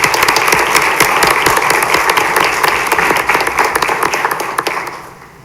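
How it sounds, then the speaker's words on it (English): A round of applause fills a school board meeting room, many people clapping steadily and loudly before the sound tapers off and fades at the end. "Can you guys give Soledad a round of applause?"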